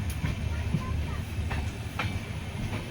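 Tambaram to Rameswaram Express train running near Pattukkottai, a steady low rumble of the carriages with faint rhythmic wheel clatter throughout, heard from on board.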